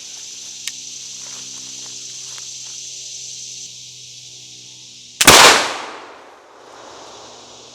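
A 1738 Heavy Dragoon flintlock musket fires once outdoors, giving a sudden loud crack with a brief boom that trails off into an echo. Steady insect buzzing continues before and after the shot.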